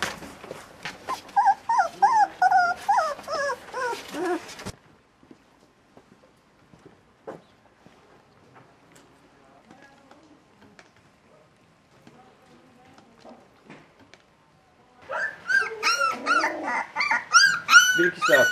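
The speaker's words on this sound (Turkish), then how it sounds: "Yaklaşık 15 gün önce dünyaya geldikleri belirlenen yavru köpekler" About fifteen-day-old puppies found under an apartment balcony whimper and yelp in loud, rapid bursts, quiet for a long stretch between two noisy spells with faint scattered sounds.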